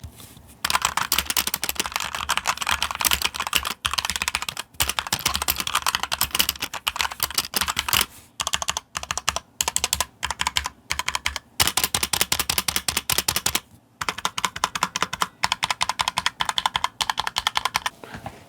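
Fast, continuous typing on a HyperX Alloy Origins TKL mechanical keyboard with red switches, dense clicking keystrokes, close and fairly loud, broken by a few short pauses. No speech.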